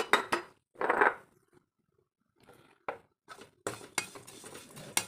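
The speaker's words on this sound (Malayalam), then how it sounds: "അവലിലേക്ക് ഒരു നുള്ള് മഞ്ഞൾപ്പൊടി ഇട്ട് വറുത്തെടുക്കുക." Flattened rice (aval) with a pinch of turmeric roasting in a pan and being stirred, giving irregular bursts of dry scraping and clinking separated by quiet gaps, close and fairly loud, with no voices.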